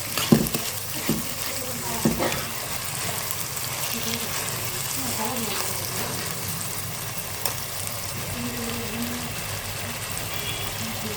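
Green chillies hitting hot oil in a dhaba-style dal tadka, a steady crackling sizzle with a few clinks of a spoon against the pan near the start, no voices.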